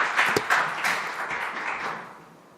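A church congregation at a New Year's revival service applauds in a large hall. A few sharp claps stand out early, then a diffuse wash of clapping slowly fades.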